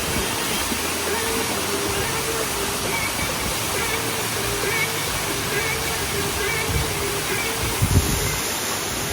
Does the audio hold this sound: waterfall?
yes